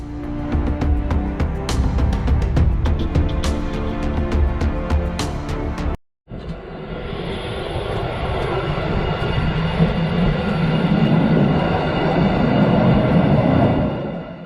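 A train bears down on a truck stuck across a railway crossing, its loud rumbling roar continuous and close, cutting out for a moment mid-way before resuming as a broad, rushing wash of noise.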